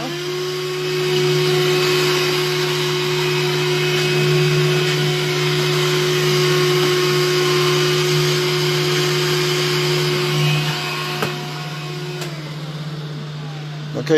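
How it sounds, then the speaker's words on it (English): A vacuum cleans debris off a machined workpiece, a maze cut for a BB, with a steady, loud droning whine that holds for about eleven seconds before cutting off into a few faint clicks. "Vacuum it off."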